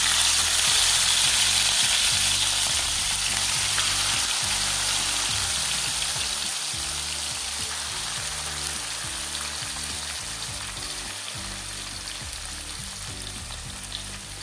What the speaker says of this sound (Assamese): এতিয়া মই সানি থৈ দিয়া মাছখিনি এনেকৈ ধুনীয়াকৈ মই তেলত ঢালি দিম